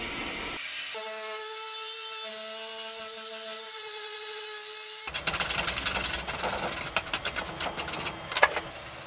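A hairdryer blowing on fresh paint on a routered wooden sign, a steady whirring hum with tonal whine that cuts out partway, followed by scattered knocks and handling clatter.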